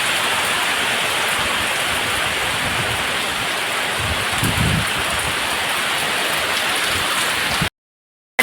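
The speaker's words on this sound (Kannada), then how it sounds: "ಮಧ್ಯಾಹ್ನ ಮೇಲಿಂದ ಜೋರು ಮಳೆ" Heavy rain pours down during a windy storm, a loud, dense, constant wash of noise with some low rumbling, alone without talk, ending in a sudden short silence.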